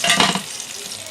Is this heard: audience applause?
no